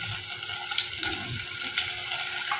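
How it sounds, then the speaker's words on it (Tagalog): Ginger sizzles and sputters in hot oil in a pan as the base for a mussel dish, a steady close frying hiss with a few small pops and no speech. "magigisa lang po tayo ng luya mga idol, tsaka sibuyas. Unahin natin tong luya"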